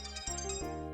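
A mobile phone rings with a bright tonal melody of sustained harmonic notes, steady and fairly loud, filling the short moment with no talk over it.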